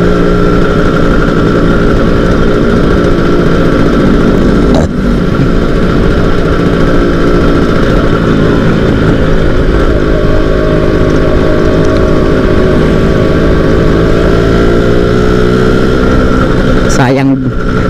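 A Yamaha RZR motorcycle is ridden on a long straight road at night, its engine droning loud and steady throughout with wind roar and a rider talking over it.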